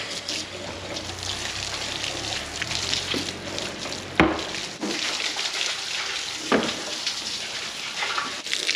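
Water flushing and swilling through calf feeders after washing, a steady broadband rush and splash with a couple of sharp knocks, fairly close and continuous.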